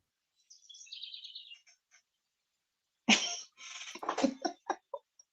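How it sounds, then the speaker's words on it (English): Birds chirp in a short, faint, high twittering burst, followed after a pause by louder, rougher, non-bird bursts that resemble coughing or throat noises. "The birds are chirping."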